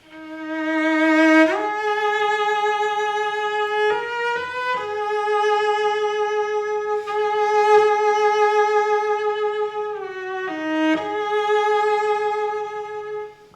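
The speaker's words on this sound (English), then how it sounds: "When the cello enters with a beautiful new theme," Solo cello plays a slow, expressive theme from Dvořák's Cello Concerto at mezzo forte, long sustained notes with gentle vibrato and a few smooth shifts between pitches.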